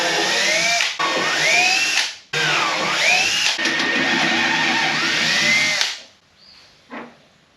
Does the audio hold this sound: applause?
no